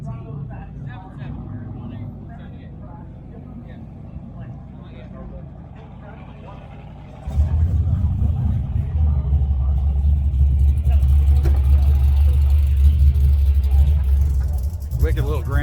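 A Grand Prix with a nitrous motor on a drag strip during Sick Week drag-and-drive action in Gainesville: a low engine rumble under talk swells into a loud, sustained, deep roar for the second half.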